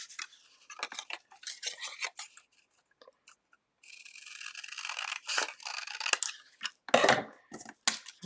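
Scissors snipping cardstock along a straight line for vintage letterpress bear cards, a close, quiet run of crisp irregular cuts with short pauses between strokes.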